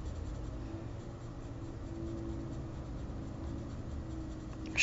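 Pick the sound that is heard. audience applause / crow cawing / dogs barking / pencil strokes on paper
pencil strokes on paper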